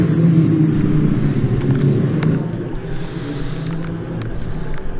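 Junior saloon racing cars pulling out at Croft circuit, a continuous, fairly loud rumble of engines moving off, building and fading slightly with revving.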